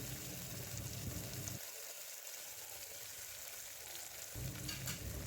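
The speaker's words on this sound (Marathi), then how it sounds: "कांदा आणि टमॅटो आता आपण सोबत परतणार आहोत पाच मिनटे" Chopped onion and tomato sautéing together in a pan, a quiet steady sizzle with soft stirring, the low rumble briefly dropping away midway before returning.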